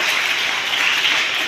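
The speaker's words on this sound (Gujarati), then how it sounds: "જોરદાર તાળી થઈ જાય" Crowd applauding at a gathering as trustees are welcomed with books, a continuous dense patter of clapping that holds steady and fairly loud without talk.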